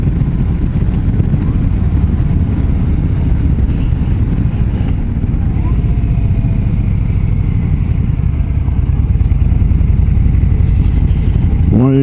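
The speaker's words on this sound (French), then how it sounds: "je me prends toutes les turbulences dans le casque" Loud, constant wind roar buffeting the helmet of a rider on a Harley-Davidson Low Rider ST cruiser at speed, with engine drone underneath and no talk.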